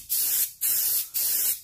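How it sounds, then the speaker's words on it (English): A spray bottle misting a tumbler, three close, loud hissing bursts of roughly half a second each, separated by brief pauses, with no talking. "Spray and turn, you don't want it dripping."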